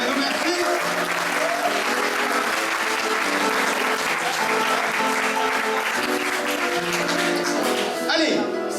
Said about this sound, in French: On peut applaudir encore une fois Martin pour son accompagnement piano